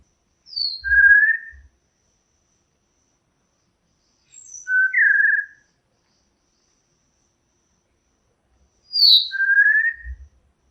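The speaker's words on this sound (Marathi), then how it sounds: "white bellied blue flycatcher" Male white-bellied blue flycatcher singing from dense streamside thicket: three separate, delicate high whistled phrases, each a short falling-and-rising series, spaced a few seconds apart with silence between, clear and fairly near.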